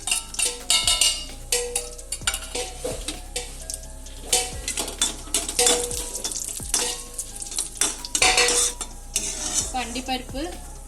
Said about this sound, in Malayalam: ഇനി അണ്ടിപ്പരിപ്പൊന്ന് വറുത്ത് കോരി എടുക്കാം.